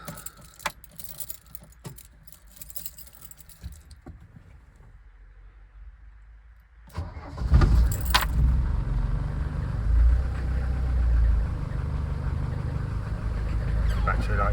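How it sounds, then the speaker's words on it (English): Mercedes 307D van's diesel engine cold-starts after about seven seconds of key jangling and quiet, then settles into a loud, steady rumbling idle close by, with no talk over it. "Cold start up."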